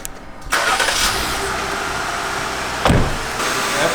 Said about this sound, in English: So I'll go ahead and start the engine